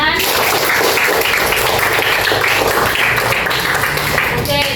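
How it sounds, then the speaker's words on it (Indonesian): Pupils in a primary school classroom applaud a classmate after his presentation. The clapping is a continuous, fairly loud crackle of small hands mixed with children's chatter, with a voice coming in right at the end. "Beri tepuk tangan kepada Zafran"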